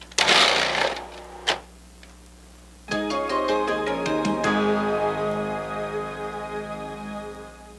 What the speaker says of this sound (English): Use the small pusher to push it through and the pulse control and slice.